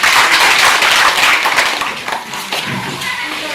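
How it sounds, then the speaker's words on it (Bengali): Audience applause at a Junior Red Cross inaugural ceremony, a dense wash of many hands clapping steadily for a few seconds, loud and near, thinning slightly toward the end. "একটা হাততালি দর্শক"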